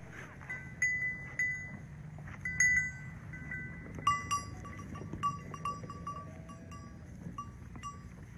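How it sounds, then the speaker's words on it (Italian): A flock of sheep and lambs grazes in a mountain pasture on the Altopiano below Ortigara and Cima 12. Cowbells clink and jingle steadily, with occasional faint bleats in the distance. "camminiamo con lui tra le pecore e gli agnelli"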